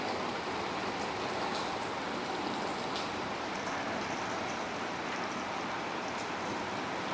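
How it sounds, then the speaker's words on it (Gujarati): Heavy rain pours steadily in a village setting, a dense, constant hiss with faint drops pattering on a metal sheet roof, continuous and loud with no voices. "ફરી પાછો અને જોરદાર વરસાદ ચાલુ થયો જો"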